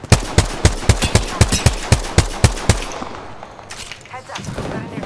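Rapid gunfire in a video game, a rhythmic string of about a dozen sharp, loud shots that then trails off into quieter ambient game noise.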